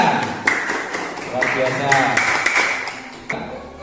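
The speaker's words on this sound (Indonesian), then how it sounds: "Tepuk tangan untuk kelompok pink, tepuk tangannya" Classroom applause for a student group after a thermometer experiment, scattered hand claps of varying loudness running under the teacher's voice, near and lively.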